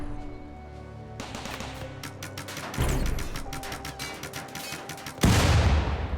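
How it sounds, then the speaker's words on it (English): A small explosion in RimWorld sets off a burst of sharp crackling pops and booms, with several loud impacts over about six seconds and a heavier blast near the end. "a little explosion"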